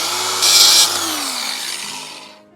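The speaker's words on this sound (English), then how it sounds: "We're going to grind a little bit smooth on there" A power grinder bites into a wooden DIY trivet with a loud, harsh whine that swells briefly, then winds down and fades over a couple of seconds.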